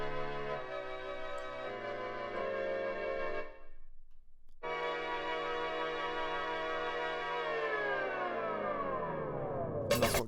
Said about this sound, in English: Some Mellotron flutes